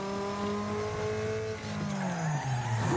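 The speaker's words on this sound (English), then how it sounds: "I can hear the car falling apart." A race car in the game Wreckfest drives a lap while its body is falling apart. The engine drones and shifts pitch, with tire squeal near the end, loud and continuous and without speech.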